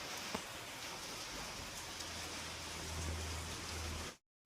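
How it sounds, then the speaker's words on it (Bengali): Rain keeps falling outside with water pooled all around, a soft, steady, even patter heard alone before cutting off abruptly. "চারিদিকে কেমন জল, এখনও বৃষ্টি পড়ছে।"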